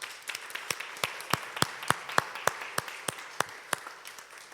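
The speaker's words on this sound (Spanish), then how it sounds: "Dale un aplauso al Señor." Steady rhythmic clapping from a church congregation, a single even beat repeated about three times per second, moderately loud with a faint room background.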